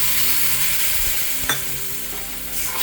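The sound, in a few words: milk poured onto roasted semolina in ghee, sizzling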